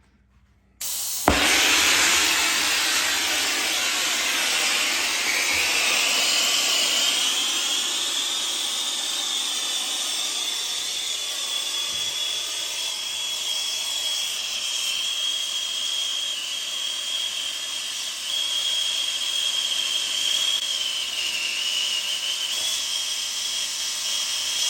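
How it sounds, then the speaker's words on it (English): Steam hisses hard and continuously from a heated water pipe in a basement, bursting on suddenly after a quiet start and holding a loud, steady whistling hiss for over twenty seconds, no talking. "Still got all that steaming water in there."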